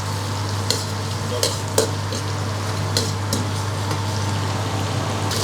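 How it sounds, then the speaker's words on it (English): Steady, even frying hiss from a pan, with a few sharp utensil clinks, as the base for Thai wild betel leaf prawn crisps cooks. "You fry until you get a nice smell."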